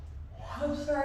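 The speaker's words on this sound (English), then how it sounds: "I'm sorry I'm yawning." A person yawns once, a short breathy inhale that opens into a rising, drawn-out voiced sigh, close and fairly quiet.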